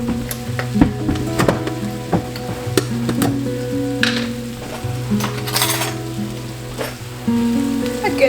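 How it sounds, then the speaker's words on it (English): Chicken livers frying in a tablespoon of coconut oil in a hot pan: a steady close sizzle with frequent clinks and scrapes of a utensil against metal, alone without voices. "It's sort of going to fry or I guess saute is a better word, for a few minutes."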